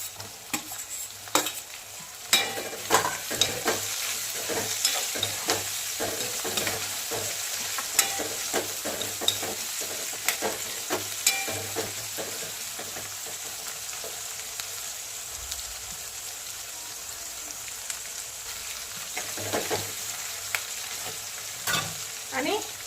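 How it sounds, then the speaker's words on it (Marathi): Potatoes and tomato fry in a pan for aloo matar pulao, a constant low sizzle cut by frequent sharp clinks and scrapes of a spoon as the mixture is stirred, with no speech. "आणि फ्राय केलेला बटाटा मस्तपैकी फ्राय करून घ्यायचं, परतून घ्यायचं मस्त छान पैकी।"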